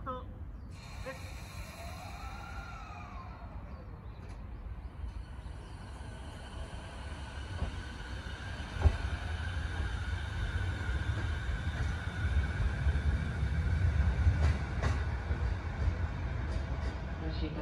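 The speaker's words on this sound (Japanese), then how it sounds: "2番線から京葉線経由東京行きの快速電車が発車します。" A JR E233 series 5000 rapid train departing Honda Station on the Sotobō Line, a low rumble building steadily as it pulls away, after a platform melody and announcement voices.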